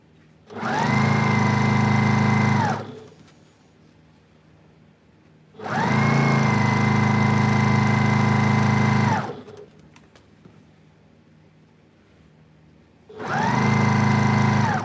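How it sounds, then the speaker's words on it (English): A sewing machine stitches a quilt seam joining dark green fabric to yellow, running in three steady, sustained bursts of a few seconds each, separated by quiet pauses. "I'm now going to sew those two together there"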